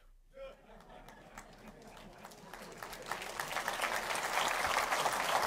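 A church congregation breaks into applause that swells from scattered claps into loud, sustained clapping from a large crowd, with voices and chatter mixed in.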